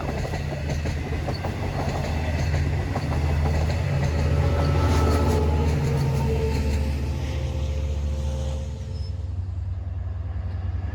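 Long Island Rail Road diesel locomotive number 505 leading a train past, a loud low engine drone with rhythmic wheel clatter over rail joints, holding strong before easing off near the end.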